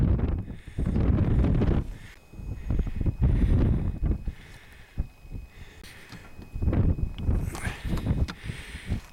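Wind buffets the microphone on an upland country walk in Upper Wharfedale in the Yorkshire Dales. Loud, rumbling gusts surge and fade with short lulls between them.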